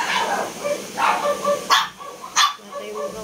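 A pet dog barks and yips in several short bursts close by, interleaved with quieter whimpering, while a person talks over much of it on a rainy day.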